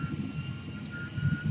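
Steady drone of an airliner's engines heard from inside the cabin on a flight, a constant low hum with a faint high whine, no sharp change.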